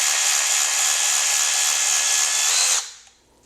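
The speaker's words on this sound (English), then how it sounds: "So grab you a T10 Torx, get down in there, and back it off." A power driver with a T10 Torx bit backing out a fastener on the selector shaft of a Chrysler/Volkswagen 62TE transmission gives a steady high whir for under three seconds, then stops abruptly.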